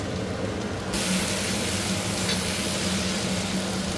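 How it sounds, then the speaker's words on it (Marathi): Garlic cloves laid in a hot kadhai with the gas switched off, giving a steady broadband sizzle that swells after the first second and holds evenly, close and fairly loud, with no talk. "आणि लसूण मी अशी गरम कढईमध्ये थोडीशी अशी ठेवून देणार आहे"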